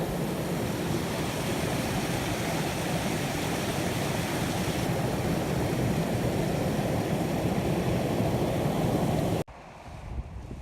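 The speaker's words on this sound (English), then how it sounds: "just moving away from that waterfall, get away from the water noise obviously" A waterfall near a landscape photographer's dawn hike spot gives a steady, broad rushing roar that stays constant. It drops abruptly to a much quieter hiss just before the end.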